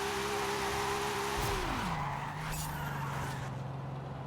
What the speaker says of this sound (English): I know it's got a 2JZ and all, but like, bruh, that's a fun car to drift.